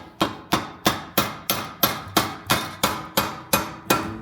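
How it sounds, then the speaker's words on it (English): Big hammer seating a brake line fitting: a dozen sharp metallic blows at an even rhythm, about two per second, each ringing briefly, close and alone. "seating the fitting in with a big old hammer"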